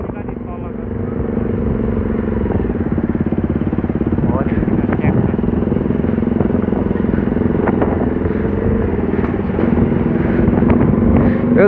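A loud motorcycle engine drones steadily and close while the bike is ridden, a continuous rumbling roar that swells slightly toward the end.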